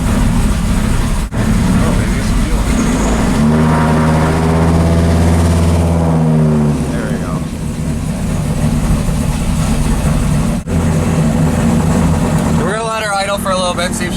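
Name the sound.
Dodge Ram 1500 truck engine running after sitting five months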